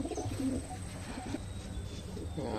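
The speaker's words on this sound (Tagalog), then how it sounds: "Kalapati natin" Pigeons coo softly and repeatedly nearby, low throaty calls rising and falling over a quiet background.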